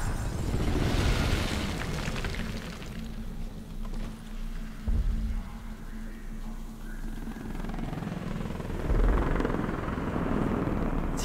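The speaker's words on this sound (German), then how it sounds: "Sieht nur ein paar Helikopter." Helicopters in the video game Crysis 3, a continuous loud rumbling rotor drone filling the mix with rushing noise, swelling near the start and again near the end.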